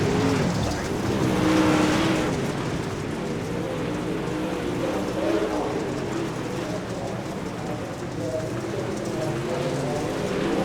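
Super late model race cars roaring around an oval in a winter racing league at Lincoln, a steady dense engine drone with swelling passes, heard at a distance under continuous commentator speech.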